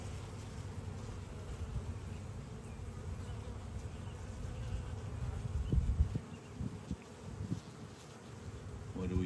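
Honey bees swarming over a hive frame during an inspection, giving a steady, fairly faint buzzing drone that holds throughout with small swells.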